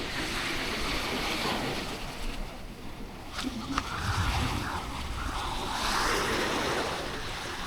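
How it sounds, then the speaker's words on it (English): Waves rolling onto a beach at a Sri Lankan resort, a steady roar of surf with swelling washes and wind noise, close and continuous with no talking. "that's the beach."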